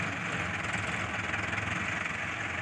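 A modified Arjun 605 tractor engine idles steadily after starting, a loud, close, continuous rumble with a throbbing mid-low drone and no speech.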